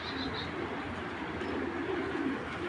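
Pigeon chicks of a Netherlands breed coo softly and continuously, low murmuring calls sitting under a steady background hum with no talk.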